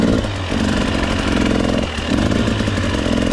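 A dirt bike engine runs steadily on an off-road single-track trail at an OHV park, loud and close, with a continuous mid-pitched drone and brief dips in revs around the half-second and two-second marks.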